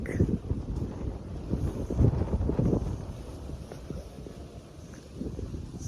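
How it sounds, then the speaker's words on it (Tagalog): Strong, cold wind buffets the microphone outdoors in gusty rumbling waves, loud and continuous throughout, with no clear voices over it. "malakas yung hangin and malamig"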